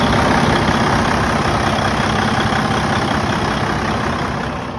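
A used semi truck's engine idles to build up air pressure, giving a loud, steady, unbroken diesel rumble from nearby that eases slightly toward the end, with no talking.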